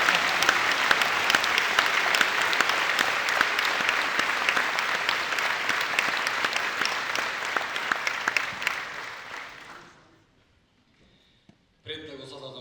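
Audience applause at the opening ceremony of the 59th Vojdan Chernodrinski theatre festival in Prilep, sustained crowd clapping filling a hall for about nine seconds before fading out, followed by a voice speaking.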